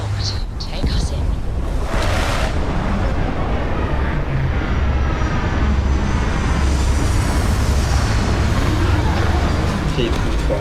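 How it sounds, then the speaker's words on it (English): Spaceship landing in the video game Starfield, a dense, steady roar of engine rumble and rushing noise throughout, with a voice talking over it. "Landing site locked. Take us in."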